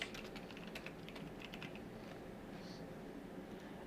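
Keys tapped on a computer keyboard while entering a spreadsheet header, a quick run of light clicks in the first half that thins out, faint against a low background hum.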